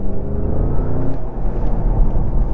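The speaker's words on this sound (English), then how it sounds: "The noise of this car is, God, it's annoying." Steady, loud engine drone and road rumble from inside a moving Seat Leon Cupra 290 or VW Golf GTI hot hatchback, a continuous low roar without pauses.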